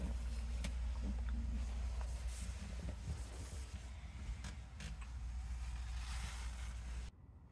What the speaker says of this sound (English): Easy engine access underneath the lift up stairs. They're all on gas shocks.